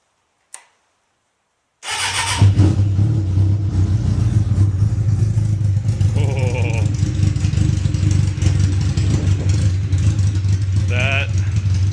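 A 1998 Suzuki Katana motorcycle with no muffler and a short exhaust fires up after a faint click and settles into a loud, raw, rumbling idle, close to the microphone, with a couple of brief blips.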